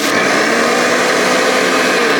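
A blender whirs steadily at close range, chopping chives in a little water; the motor drone is loud and continuous throughout, with no talking.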